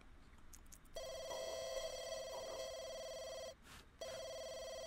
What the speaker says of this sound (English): Oh my gosh, your phone's ringing.